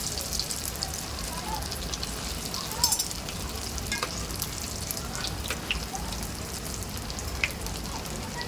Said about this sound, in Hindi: अभी हमारे यहाँ पे हम कटलेट्स को फ्राई कर लेते हैं